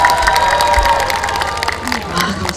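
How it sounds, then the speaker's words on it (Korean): A concert audience at a trot music show in Pohang claps and cheers loudly, with shouts and whoops rising over continuous applause from a large crowd. "다시 한번 큰 박수 부탁드리겠습니다"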